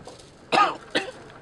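Two short coughs, close and fairly loud, the second slightly weaker, separated by a brief pause.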